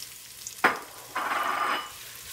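Onions dropped into a hot pan for a coconut-milk chickpea dish: a sharp thud, a short pause, then a loud burst of sizzling lasting under a second before easing off, close up with no voices.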